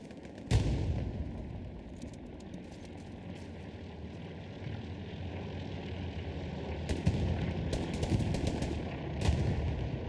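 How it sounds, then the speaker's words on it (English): Battlefield combat in Hell Let Loose: a few sharp gunshot cracks and a distant explosion over a constant low rumble of engines and gunfire, with scattered bursts toward the end and no voices. "Explosion going down on the road there."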